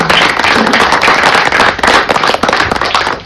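Dense, loud clapping from an audience at a book release during a poetry festival at NCPA Mumbai, continuous and busy with sharp individual claps throughout, fairly close.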